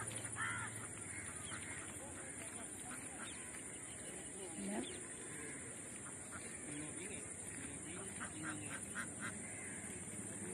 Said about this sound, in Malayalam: ഇവിടെ കുറേ താറാവ് കൂട്ടങ്ങളെ കാണാം.